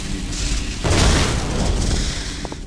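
A mortar fires in The Wizards VR video game, a loud, deep boom that bursts in after a steady low rumble and lingers as a rolling roar, with a couple of faint clicks near the end.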